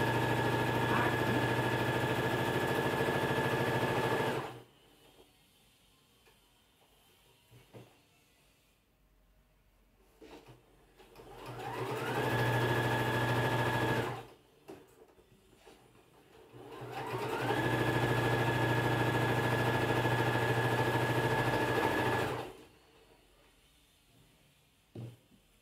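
Sewing machine stitching a patchwork table runner in three long, steady bursts, each with a close, even whirring hum, separated by quieter pauses filled with faint handling noises.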